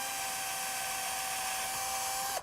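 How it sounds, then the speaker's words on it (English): A drill runs steadily with a 5/64 inch bit, pre-drilling a hole in wood at the edge of a table for a canjo build, making a continuous high whine that stops abruptly at the end. "We'll pre-drill that hole."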